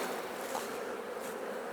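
Honey bees buzz around an open Langstroth hive during an inspection, a faint, steady hum with no voices.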